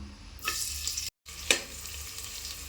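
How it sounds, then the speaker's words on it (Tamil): Chopped onions drop into hot oil for vegetable biryani, giving a faint, steady sizzle with two brief sharper bursts of spitting and a short silent break between them. "இப்போ எண்ணெய் நல்லா காஞ்சிருச்சிங்க நம்ம கட் பண்ணி வச்சுருக்கிற வெங்காயத்தோடு சேர்த்துக்கலாம்"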